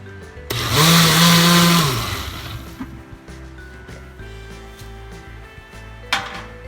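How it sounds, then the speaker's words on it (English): Kitchen blender pulsing during coconut bake preparation, a loud motor whine surging for about a second and a half, then fading to low clatter, with another short pulse near the end. "You won't be hearing me when I pulse, when I run the blender, okay?"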